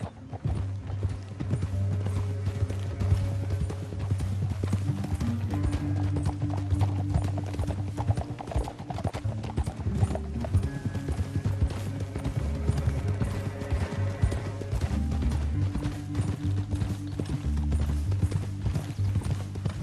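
Rhythmic hoofbeats of a galloping horse in the video game Red Dead Redemption 2 clip-clop steadily throughout, layered under a loud, continuous musical score with low sustained tones.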